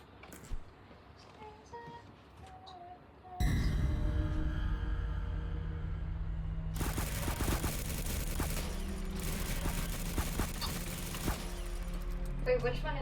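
Gunfire in the video game The Button: a loud burst of game action and shots begins about a third of the way in, with dense crackling bursts later, under a continuous din and some talk.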